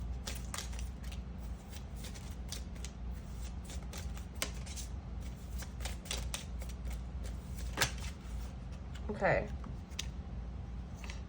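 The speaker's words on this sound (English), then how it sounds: "we're going to shuffle that back in" Tarot cards are shuffled in quick, crisp riffling bursts, close up and fairly quiet, with a low hum in the background.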